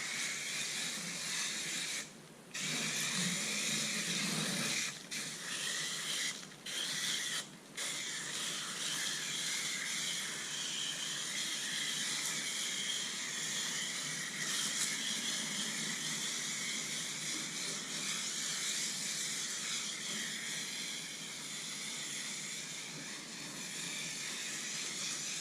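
A Dodge Dakota pickup being washed with a steady hissing water spray that runs nearly continuously, with brief breaks where the nozzle stops and starts again, close and fairly loud.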